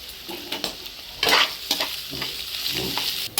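Puffed rice with turmeric roasts in a pan for spicy churumuri, a dry scraping stir and soft crackling sizzle repeating in close, uneven strokes with one louder rustling push.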